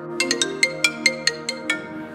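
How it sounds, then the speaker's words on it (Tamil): A phone ringtone plays for an incoming call, nine bright chiming beeps in a quick, slightly uneven pattern, clear and fairly close with no speech. "என் ஃப்ரெண்டு கிட்ட இருந்து ஃபோன் வருது"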